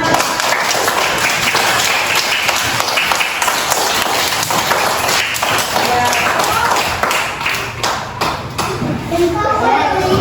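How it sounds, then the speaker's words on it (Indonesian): Schoolchildren in a classroom clap together at a teacher's prompt, a continuous busy rattle of small hands with taps and thumps and children's voices running through it. "Beri tepuk tangan semuanya"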